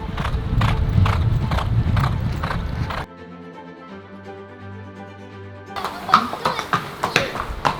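Horse hooves clip-clopping in a rapid, regular rhythm at a show-horse stable, close and loud, then a stretch of steady music before hoofbeats and clatter return.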